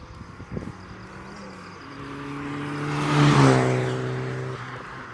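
A turbocharged Suzuki Esteem tuned to about 160 bhp with a race clutch revs up and swells to a loud peak, then settles back, heard alone and fairly close.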